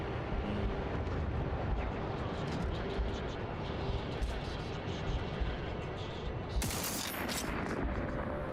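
Game gunfire from The Outer Worlds 2 crackles in dense, continuous bursts, with a sharp, louder volley of shots near the end, loud and close throughout.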